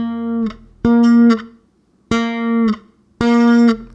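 Bass guitar notes bent up a half step in a bass line, three or four sustained, close plucked notes with a slight upward pitch glide, separated by short gaps.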